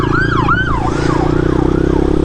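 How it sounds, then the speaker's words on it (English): An ambulance siren wails ahead of a following vehicle, its rising and falling tone loud over steady engine and road noise, with no voices. "Following an ambulance, Whitey."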